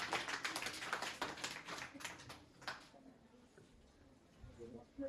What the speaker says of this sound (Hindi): जोरदार ताली बच्चों की।